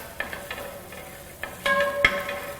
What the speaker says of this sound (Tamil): நல்லா பொன்னரமாக வதக்கணும் பொறுமையாக